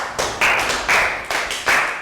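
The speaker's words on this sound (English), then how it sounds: "Round of applause for Annette." A few pairs of hands in a classroom clap in short, loud bursts, four distinct slaps spaced at an even rhythm, close and alone.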